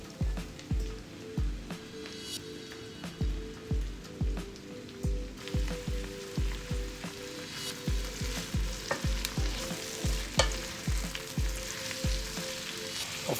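Chicken fajita with peppers frying in a pan, a continuous soft sizzle punctuated by regular knocking stirs roughly twice a second throughout, close and without talk.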